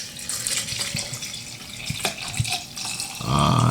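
Water from a tap or bottle pours into a container, with a hissing trickle and a few drips, then a fuller, louder gushing stream toward the end as it is topped off.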